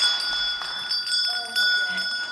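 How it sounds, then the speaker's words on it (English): A bell rung during a Sunday church service gives a clear metallic ring with a long, sustained tone that lingers behind the room's soft background murmur. "we should ring our awesome bell."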